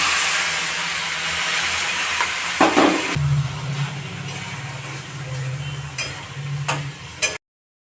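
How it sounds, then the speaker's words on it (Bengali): Shredded cabbage going into hot oil with previously fried fish heads, raising a sudden loud sizzle that settles into a steady hiss, with scattered clinks and light stirring knocks nearby. "এবার বাঁধাকপিটা এর মধ্যে দিয়ে দেবো।"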